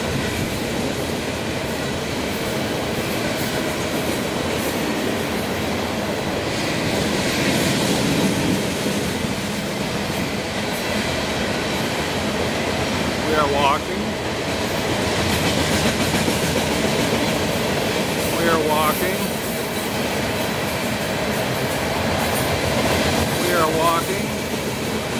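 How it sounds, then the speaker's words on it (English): A long BNSF oil train with two engines rolls steadily past close by on CSX track, a continuous heavy rumble with rhythmic clacking of wheels over rail joints and occasional squeals. "There was two engines. This might be a shorter oil train."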